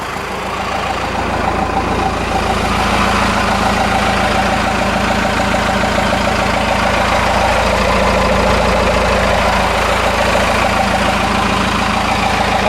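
A heavy 4BT Cummins diesel truck engine idles steadily with a deep, rumbling drone, loud and close, unchanging for the whole stretch with no talking.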